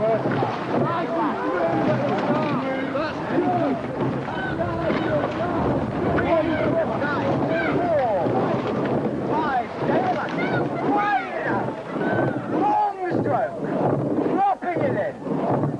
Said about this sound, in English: It's windy, there's a lot of wash.